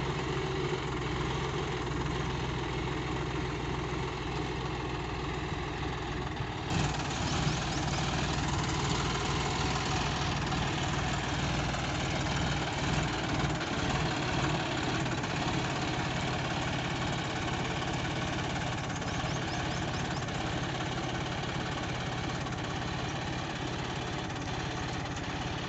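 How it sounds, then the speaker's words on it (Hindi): A John Deere 5105 tractor pulls a plain plough through a field, its engine running at a steady, moderate drone that stays continuous and fairly close throughout with no talking. "ट्रैक्टर को आराम से चलाया जा रहा है।"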